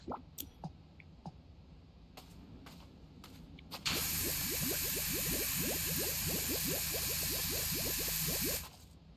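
Soap nozzle of a virtual pressure washer in PowerWash Simulator sprays in a loud, steady hiss for about five seconds, with wet clicking and spattering running underneath, after a quieter stretch of scattered taps and clicks.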